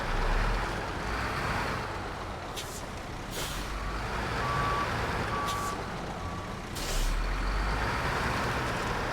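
A truck in a video game being tugged out of thin ice, with a low steady engine drone, hissing air brake bursts and intermittent reversing beeps.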